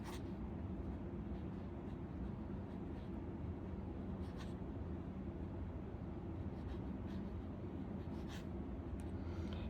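A Mont Blanc Meisterstuck 149 fountain pen with a curved nib scratches softly across paper in a continuous, faint stroke under steady low background noise.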